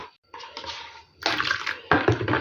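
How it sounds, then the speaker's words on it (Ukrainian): Water poured into a cooking pot while making sauce for stuffed peppers, a splashing, bubbling pour in three bursts with short pauses, close and fairly loud. "залю остальну воду. Це буде десь 150 мл."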